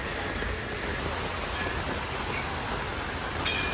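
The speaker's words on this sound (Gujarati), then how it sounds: "અને બહુ વરસાદ ચાલુ છે ફૂલ" A downpour of heavy rain in Gandhinagar makes a continuous, even roar of drops with no voices over it.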